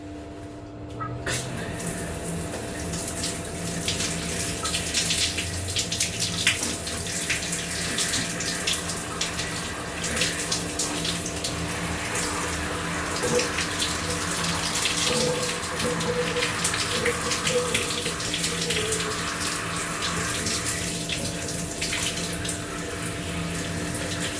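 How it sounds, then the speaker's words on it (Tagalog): Shower water runs steadily in the compact onboard shower of a Singapore Airlines A380 as hair is rinsed, a continuous close hiss of spray over the low drone of the aircraft cabin. "Banlawan na po natin itong hair natin."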